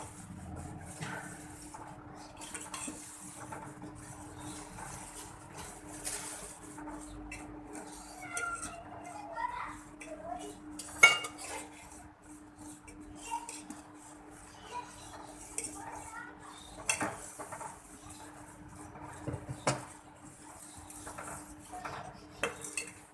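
A spoon clinks and scrapes steadily around a pan as custard is stirred and poured in, fairly quiet, with irregular metallic taps over a soft background hum.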